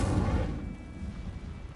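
An Incendio fire spell is cast in Hogwarts Legacy, a single heavy whooshing burst of flame with a low rumble that fades over about a second.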